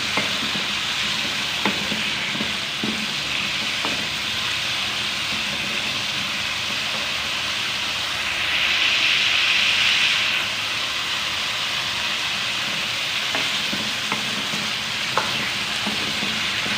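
Potatoes fry in a pan in a continuous, loud, even sizzle that swells slightly midway, with a few faint knocks of stirring and no talking.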